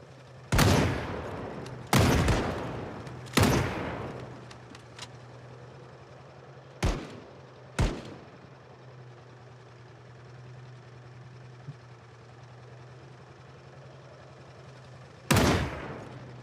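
Rifle gunfire from an AK in the zombie survival game Project Zomboid: three loud shots in quick succession, two lighter ones a few seconds later and a final burst near the end, over a steady engine-like idle hum.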